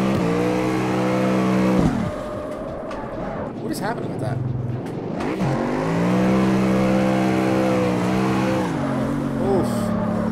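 Street car engine droning and rising with tyre noise while driving in CarX Street, pitch sweeping up and down through shifts and slides, with someone talking over it.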